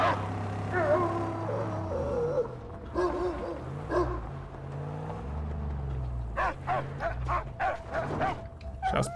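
A dog barking in the Mad Max video game: several deep barks and yelps over a rumbling vehicle engine and game noise, ending in a quick run of sharp barks close by.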